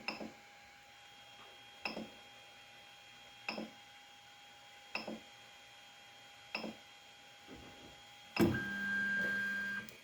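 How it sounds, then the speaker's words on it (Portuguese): A 3D printer preparing to print emits evenly spaced mechanical clicks about every second and a half over a faint hum, then a motor whirs up with a steady high tone. "Vou vir no meu seletor, vou preparar a impressora."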